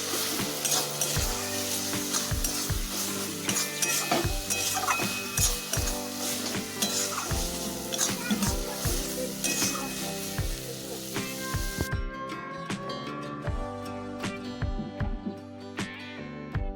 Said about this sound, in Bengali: আদা বাটা দিয়ে কিছু সময় নেড়ে চেড়ে নেব